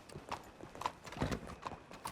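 Horse hooves clip-clop at a steady walking pace, close by and fairly soft, with faint background noise.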